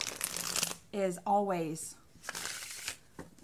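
Tarot cards being shuffled in bursts of papery riffling, near and fairly soft, with a person talking between and over the shuffles.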